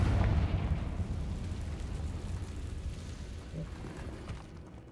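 In the Hogwarts Legacy video game, a Confringo fire spell explodes in catacombs with a deep booming blast that rolls into a fading low rumble.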